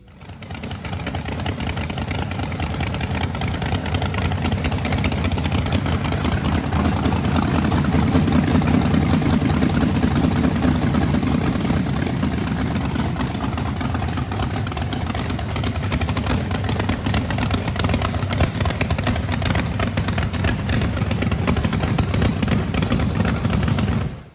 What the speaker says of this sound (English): I did get the motor back together. Sounded real good.